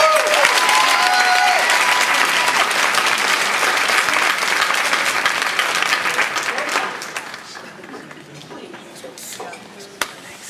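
Sustained applause from a crowd, loud and dense at first, then thinning and fading out toward the end.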